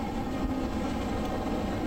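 Steady rolling rumble and hum of an Osaka Metro Midosuji Line subway train bound for Senri-Chuo, heard close and continuous with no voices.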